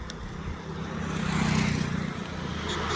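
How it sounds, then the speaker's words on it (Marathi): A second-hand car's engine drones low and steady, swelling a little through the middle without catching into a clear rev, close by with no one talking. "गाडी काय आपली चालू होईना"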